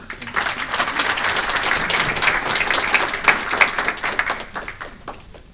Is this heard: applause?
yes